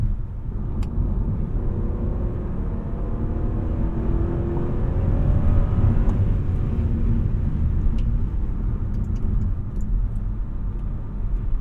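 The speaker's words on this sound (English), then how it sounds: "lay my foot into the pedal, and see how long or responsive the transmission is to a kickdown" A 2003 Audi S8 D2 accelerates hard after an automatic-transmission kickdown from about 50 mph: a loud, steady engine roar and road rumble that swells in pitch midway, heard from inside the car.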